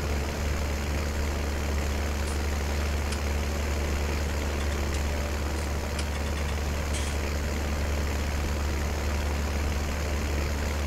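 A Mercedes tractor engine idles in Farming Simulator 2019, a steady low rumbling drone that holds evenly throughout with no talk.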